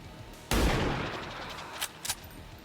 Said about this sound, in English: No, we're just taking a normal shot.